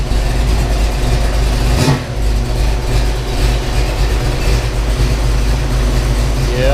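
A 1985 Ford Mustang GT foxbody with a Windsor V8 driving, its engine a loud, steady close drone with a brief dip near two seconds and no voices over it.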